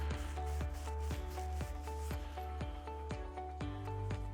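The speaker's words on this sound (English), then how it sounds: "we want to clean the outside of the tube with a Rovley cleaning pad" A cleaning pad scrubbing the outside end of a copper tube, giving quick, even back-and-forth rubbing strokes, close and soft, with a steady hum underneath.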